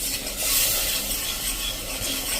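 Yogurt is stirred into spice masala in a pan, a steady, close scraping and stirring rasp with soft hiss that runs continuously with no talking.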